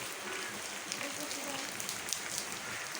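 Rain falling steadily outdoors, a dense even hiss across the whole stretch, close and moderately loud, with a few faint scattered taps and no talk.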